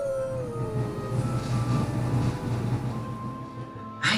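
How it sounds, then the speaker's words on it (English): A pack of wolves howls from afar on a full moon night, long drawn-out wavering howls layered over a low rumbling background, moderately loud and continuous, with no speech. "a pack of wolves howled from afar"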